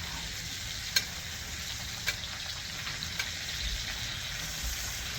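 Steaks cooking in a pan with butter and rosemary give off a steady, even sizzle throughout, with a few sharp crackles and pops standing out at a close distance.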